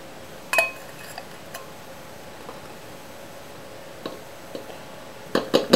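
A spoon scoops manganese dioxide into a storage container, making a few sparse, light clinks and taps against the container over a quiet background, with a louder cluster of clinks near the end.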